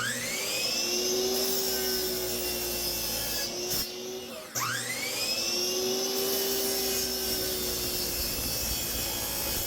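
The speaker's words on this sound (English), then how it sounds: "if you're cutting with a miter saw, I would go fairly slow through the wood" A miter saw whines up to speed and cuts through a wood block, then spins up again for a second cut, the motor's steady rising tone loud and close with no talking.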